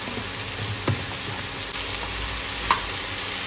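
Ridge gourd sabzi with turmeric is stirred in a hot pan, giving a steady close sizzle with a spoon scraping through the vegetables and a couple of sharper clinks.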